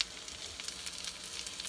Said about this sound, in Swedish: Jag ska steka lite ägg tänkte jag.